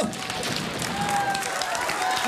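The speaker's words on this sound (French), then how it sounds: "Applaudissements." Studio audience on a French TV entertainment show applauds: a dense, steady wash of many hands clapping at once, sustained and fairly loud, with a faint whistle or tone running through it.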